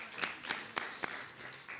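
A few sparse, separate claps ring out from a small school audience at a short-film screening and discussion, faint and spaced about a quarter second apart before trailing off.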